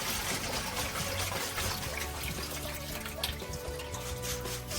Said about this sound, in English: Spray out some water, so the water's come okay.